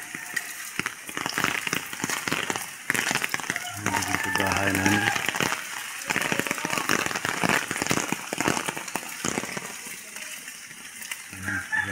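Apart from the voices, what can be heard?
wind gusts and rain after Typhoon Tino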